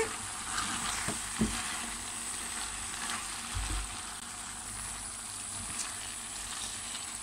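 Swiss chard stems fry in a pan with a steady sizzle, broken by occasional scraping and knocking as they are stirred.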